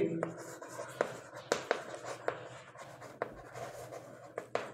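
Marker or chalk strokes on a classroom board while numbers are written for a place-value math lesson, a run of short scratchy taps and strokes at an uneven pace, with a teacher's voice talking over them.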